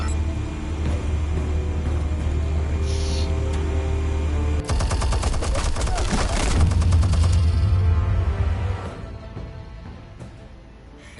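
Game gunfire and explosions erupt after an order to fire armed explosives, a dense burst of rapid shots and booms with heavy low rumble that swells mid-clip, then thins out, no clear talk over it.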